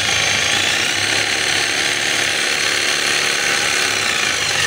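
A power tool with a hammer function runs continuously at close range during testing, giving a loud, dense mechanical rattling buzz with no pauses.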